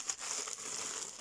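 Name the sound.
small plastic bag crinkling while unpacking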